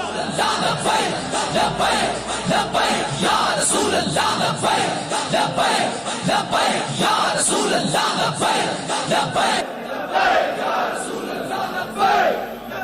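A large crowd at a religious gathering chants the Labbaik Ya Rasool Allah slogan in loud, rhythmic, repeated bursts of massed voices, sustained and close throughout.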